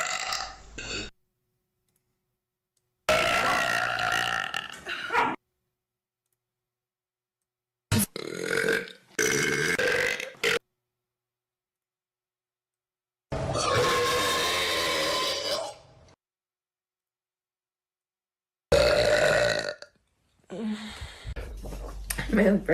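A person lets out loud, drawn-out burps again and again, about five of them, each lasting a second or more and separated by silence. Some trail off into voiced groans.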